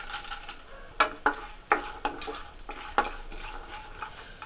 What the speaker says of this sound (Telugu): ఇందులో సాయిపప్పును కూడా వేసుకొని వేయించుకోవాలి.